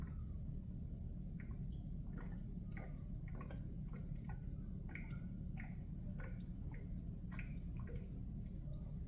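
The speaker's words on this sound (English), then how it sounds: "bubbles coming out of it, as you can hear." Air bubbles escaping through a Schrader valve on a car's coolant system while an intercooler leak is repaired and refilled, heard as faint scattered pops and drips over a steady low rumble, with no talking.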